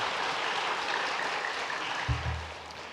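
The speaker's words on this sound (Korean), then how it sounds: "우리 큰 박수로 환영하겠습니다" A church congregation claps steadily together for about three seconds to welcome a newcomer during a Sunday service, filling the room with a dense, even patter that eases slightly toward the end.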